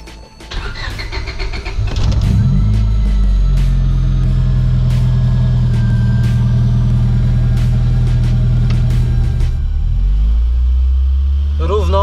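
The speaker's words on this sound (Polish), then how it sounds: "chciałbym Was zaprosić na krótki test, odpalenie, tak jak po prostu to auto pracuje" A Honda D/B/H/F-series engine fitted with new ignition coils cranks over, catches after about two seconds and settles into a loud, steady idle. The idle is close-up and continuous, with a few clicks over the top.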